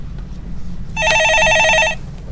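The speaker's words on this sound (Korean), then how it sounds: "전화 받아보겠습니다" A telephone rings once with a single electronic trilling burst lasting about a second, clear and close over a quiet room hum.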